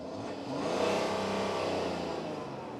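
A BMW 335d's straight-six diesel engine revs up and holds a throaty, steady roar for a few seconds, close and fairly loud, with no talking.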